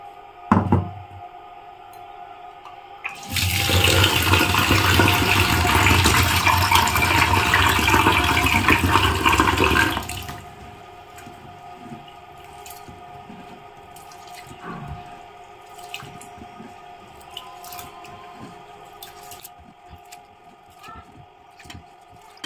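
Rice and lentils being washed in water, a loud broadband rush of running water and swishing grains lasting about seven seconds, followed by quieter drips, knocks and handling sounds in a kitchen.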